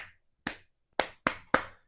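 Five sharp, isolated hand claps in the teacher-style attention-getter pattern: two spaced-out claps followed by three quicker ones, close and clear against silence.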